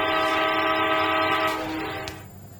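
A train in the Indian Bike Driving 3D video game pulls away, its sustained horn-like tone with stacked harmonics sounding loud and steady before fading out over about two seconds, with no talking.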